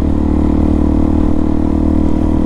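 Suzuki DRZ400 dual-sport motorcycle with an aftermarket exhaust, 3x3 mod and jet kit, droning steadily and loudly up close while ridden at constant speed, with no talk.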